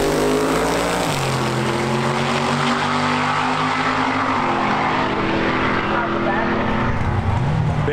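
A big Cadillac drag racing down the strip, its loud engine roaring steadily and shifting pitch as it accelerates, with voices faintly audible under the noise.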